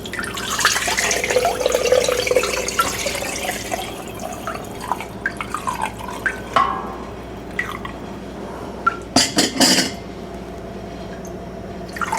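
Chicken broth pours and splashes into a container, trickling first, then thinning into drips and a few short, sloshy bursts near the end.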